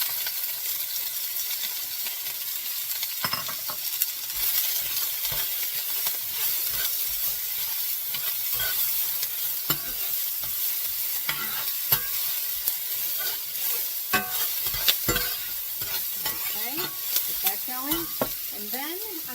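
Onions and carrots hitting a hot pan for moo shu pork, a continuous close sizzle with frequent stirring clicks and scrapes, steady and prominent throughout.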